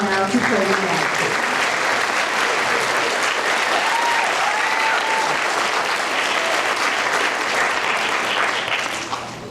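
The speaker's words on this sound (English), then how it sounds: "If you could please give them a round of applause now to show you that." Audience applause at a school winter band concert, dense steady clapping that fills the hall for several seconds before easing off at the end.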